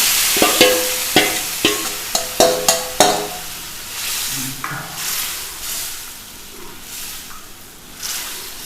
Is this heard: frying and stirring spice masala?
yes